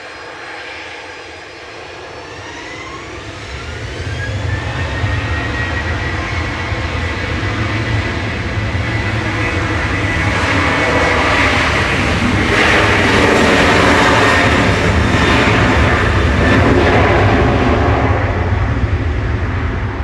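Jet airliner engines at Manchester Airport, a loud steady roar with a rising whine that builds and swells, heard up close from the cabin through the whole stretch with no talk.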